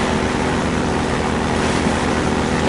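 Steady, loud engine drone of a hovercraft driving in Half-Life 2, a continuous propeller-like roar with rhythmic low pulsing, no speech over it.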